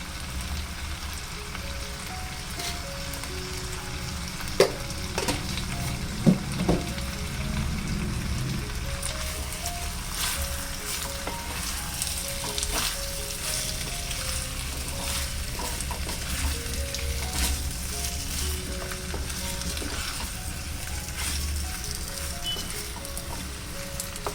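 Chicken frying in a pan for a home-style chicken stew, with a steady crackling sizzle lasting throughout, occasional stirring scrapes and a few louder pops, close up and with no talking.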